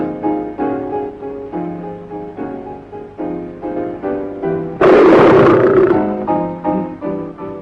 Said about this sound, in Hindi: जिंदा बाघ